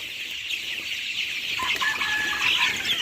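Eighteen-day-old Color Bat chickens in a poultry house call with high, thin chirps and clucks, one bird after another, close and moderately loud, with no talking.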